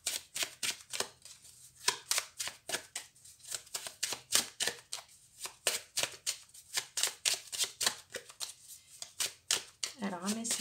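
Oracle cards being shuffled by hand, a rapid, steady run of crisp riffling slaps and flutters going on throughout, fairly close and loud, with a brief voice near the end.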